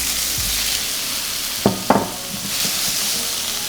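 Shrimp sautéing in a pan of hot oil give a steady broadband sizzle throughout, broken by a couple of brief clatters as they are stirred or moved.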